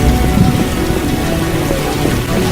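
Heavy rain pours in The Witcher video game, a loud, dense, continuous hiss of falling water with a low rumble beneath, unbroken and without voices.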